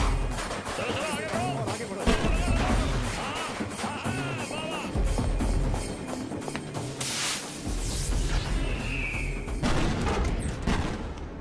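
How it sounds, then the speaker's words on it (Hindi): Firecrackers burst in rapid, irregular volleys of sharp cracks and booms, loud and close, with voices chattering and shouting underneath. "पटाखे की आवाज है."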